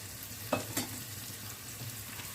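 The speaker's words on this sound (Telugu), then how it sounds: "ఉల్లిపాయలు టమాటాలు కూడా వేసి వేయించుకుందామండి" Onions and tomatoes frying in a pan for upma, with a low steady sizzle and two brief utensil knocks early on, no voices.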